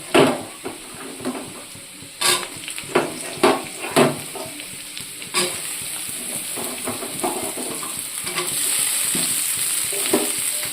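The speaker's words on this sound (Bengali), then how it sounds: "পেঁয়াজগুলো একটু ভাজা ভাজা হয়ে গেছে। এবার আমি আলুটা দিয়ে দেবো।" Onion and potato frying in a pan, a steady sizzle broken by loud scraping stirs and clanks of the spatula at close range, building to a fuller hiss near the end.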